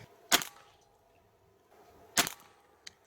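An air rifle fires pellets while being zeroed with iron sights, two sharp cracking shots about two seconds apart, each followed by a brief rattle, with a fainter click at the end.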